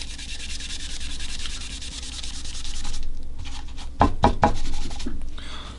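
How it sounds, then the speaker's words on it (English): A guitar body is sanded by hand with 600-grit sandpaper to remove a scratch, giving a steady close rhythmic rasping that stops briefly near the end for a few knocks before resuming. "we'll get some 600 grit sandpaper, sand this out in that scratched area"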